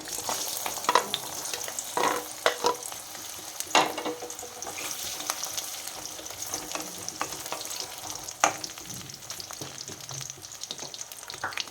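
Jujubes fry and sizzle in hot mustard oil for a sweet and sour pickle, a continuous close crackle broken by sharp spits and stirring scrapes, with no voices.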